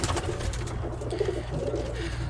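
Birmingham Roller pigeons coo steadily in a dim loft where hens sit on young, a close, continuous low cooing murmur with layered calls and no talk.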